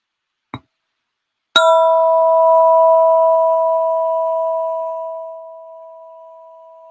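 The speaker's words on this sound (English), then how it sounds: "And now I'm going to ring the bell" A mindfulness bell rings once after a soft preceding tap, then its bright sustained tone slowly fades over several seconds in a quiet room.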